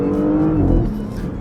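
Porsche Panamera 4 under hard acceleration and braking, its engine rising in a strong roar and then easing off, heard from inside the car with no talking.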